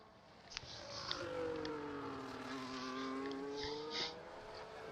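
A McLaren Formula 1 car in the F1 24 video game pulls out onto the Monaco circuit, its engine whine climbing and sliding in pitch as it accelerates and shifts, moderately close and continuous with small clicks.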